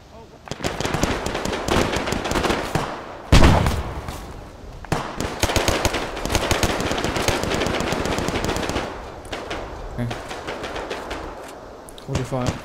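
Intense rapid gunfire in a close-quarters battle inside a building, loud bursts of automatic shots and single cracks going on almost without a break, with voices shouting among the shooting.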